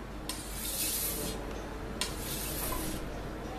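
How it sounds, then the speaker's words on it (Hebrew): A steel shawarma knife blade is drawn repeatedly against a sharpener, making two long, close, hissing scrapes separated by a short pause, with no voices present. "אנחנו נשחיז את התער."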